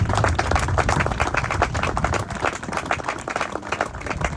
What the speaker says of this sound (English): Join me a round of applause for these drill sergeants and drill sergeant candidates